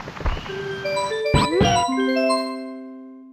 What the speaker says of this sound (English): Now when you do talk to Yoshi, it plays the jingle that you did something right.